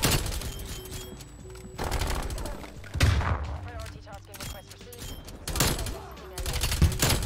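LC10 submachine gun fire in the video game Black Ops Cold War: repeated rapid bursts crackle over a steady mix of game ambience, with a few heavier thuds, loud and close.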